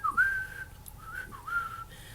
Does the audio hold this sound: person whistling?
yes